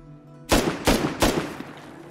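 Three sharp gunshots from Rust Console Edition ring out in quick succession, roughly a third of a second apart, loud and close with short decaying tails.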